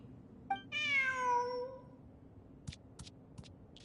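In a video game exploration event, a cat gives one long, clear meow that rises and then trails off, followed by a few soft clicks against quiet ambience.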